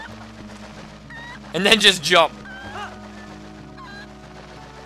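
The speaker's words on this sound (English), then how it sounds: "Okay, pick up the chicken." A chicken squawks loudly in a burst of harsh, flapping clucks in Zelda: Twilight Princess, surrounded by game music and someone talking.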